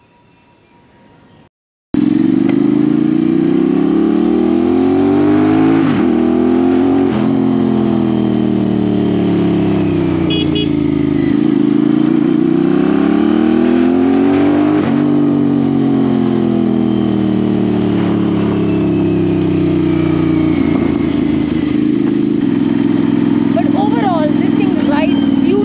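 A Royal Enfield Interceptor motorcycle with a costly custom build revs its engine close by, loud and steady, with repeated throttle blips that rise and fall over about 23 seconds after a short quiet start.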